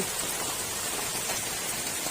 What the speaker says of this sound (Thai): นอนฟังเสียงฝนตก สังกสี